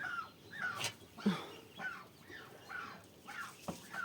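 Short, high-pitched dog yaps come in scattered bursts over a faint outdoor background, with some bird-like chirps mixed in.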